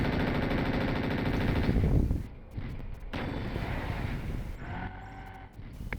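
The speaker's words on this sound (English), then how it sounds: "Oh, yeah, have some machine guns." Loud, continuous rattle of machine gun fire from a mech in MechWarrior 4 Mercenaries, a steady rapid stream for about two seconds, followed by quieter game sounds and scattered bursts.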